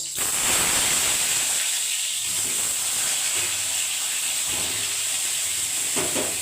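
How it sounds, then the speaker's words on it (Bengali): Pointed gourd frying in hot oil in a pan, a dense continuous hiss and sizzle filling the whole stretch at close range, with low rumbling underneath and no talk. "এই পটলটা বেশ সুন্দর করে তেলে কষিয়ে দিতে হবে"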